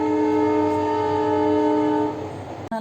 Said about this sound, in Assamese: ট্ৰেইনখন আহি গ'ল।